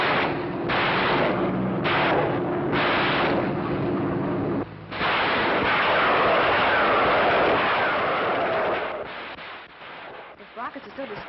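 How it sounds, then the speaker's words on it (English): A series of loud, roaring whooshes and blasts, rockets launching one after another in a sustained barrage, with heavy rumbling that tapers off at the end. "once you've heard the sound of a rocket, you'll never forget it."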